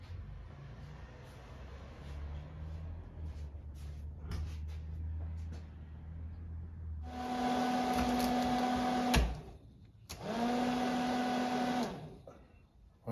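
A cheap Harbor Freight roof vent fan on a square drop camper whirs on loudly in two bursts with a steady motor hum and a brief stop between, after a stretch of low, quiet rumble.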